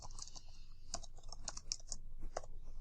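Close, crisp keystrokes on a computer keyboard as data is entered into spreadsheet cells, a short burst of irregular taps over a quiet room.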